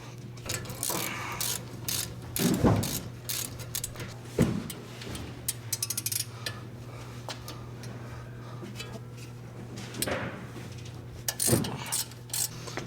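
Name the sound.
removing brake caliper guide pins with 7mm Allen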